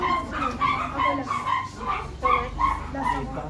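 A dog yips, barks and whimpers in a rapid, rhythmic series of high whiny cries during a noisy indoor tower-building game, with other background sounds around it.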